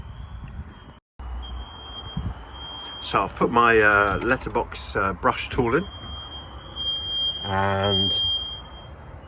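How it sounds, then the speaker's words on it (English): A high-pitched alarm shrills continuously inside a property, steady and sustained, while someone talks close by over it. "definitely the alarm is going off inside here"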